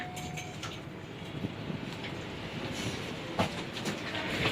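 A Palembang LRT light rail train running, with a steady rumble and faint rail clatter throughout and a few brief louder clunks, heard from inside or close by with no voices.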